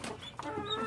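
Chickens cluck in a poultry setup indoors, a short burst of close, mid-loud clucks over a steady background hum.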